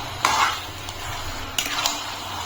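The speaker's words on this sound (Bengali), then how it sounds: "এখন আবার একটু নাড়িয়ে দিচ্ছি।" Chicken korma simmering in a pot is stirred with a utensil, producing a few brief scraping strokes and light knocks over a soft background hiss.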